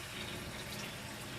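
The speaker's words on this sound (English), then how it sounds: "I'm actually just going to rinse it out just in case we do need it." Running water from a tap rinses out home brewing equipment in a sink, a steady close splashing flow with no pauses and no talk.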